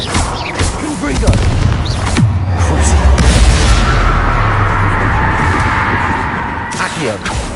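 A fiery Confringo blast spell explodes in the video game Hogwarts Legacy, a loud booming burst with a rumbling tail, heard under a player's shouted spell casting.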